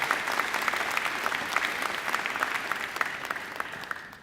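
Sustained applause from a large audience at a university graduation ceremony, dense and steady clapping at close range, fading slightly toward the end, with no talk over it.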